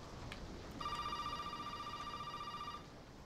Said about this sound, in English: Oh, the phone's ringing. The phone!